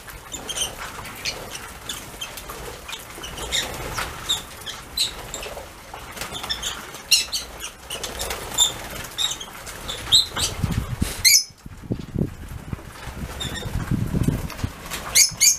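Pet birds fly off toward freshly scattered seeds, making a busy stretch of soft wing flutters, light patter and scattered chirps, with a brief lull before bursts of flapping close by.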